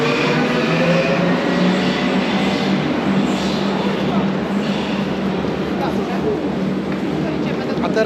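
A Berlin S-Bahn S2 train arriving at Gesundbrunnen makes a loud, continuous rumble and rail roar for the whole stretch, with people talking over it.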